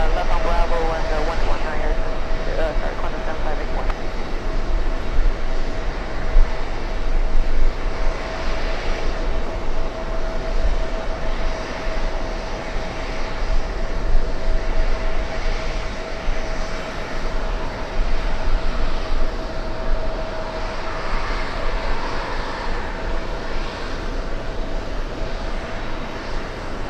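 Singapore Airlines airliner in from Frankfurt at JFK on a hot day, a continuous loud jet rumble with a steady tonal whine running through the whole stretch.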